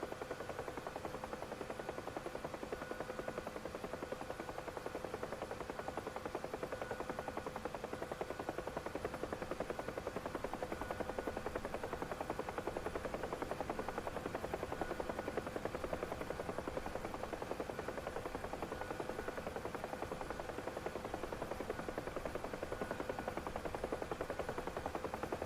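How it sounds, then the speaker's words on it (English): A UH-1H Huey helicopter flying in the DCS World combat flight simulator makes a steady, continuous rotor and turbine drone that holds at an even level throughout, with no talking. "Love the sound of the Huey."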